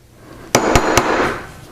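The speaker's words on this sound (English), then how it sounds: "I'm going to hammer the wrinkle out." A hammer strikes a small metal bead three times to flatten out a wrinkle, giving sharp, bright, evenly spaced taps close by.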